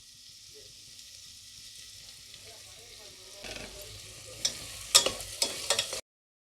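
Ground masala paste dropped into hot oil for a potato and green pea gravy, starting with a low background hum and then bursting into sharp sizzling and crackling with a few spatters.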